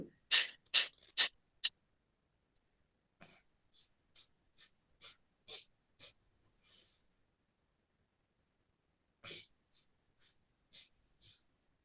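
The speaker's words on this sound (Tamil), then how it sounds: "மீண்டும் ஒரு முறை நல்ல சுவாசத்தை உள்ள இழுத்துக்கோங்க. ஸ்டார்ட். எக்ஸேல் கொடுத்துட்டே இருங்க." Deep yogic pranayama breathing, a series of short forceful nasal exhalations: a quick burst of four, then a slower run of about eight, and a final group of five, close and sharp with silence between.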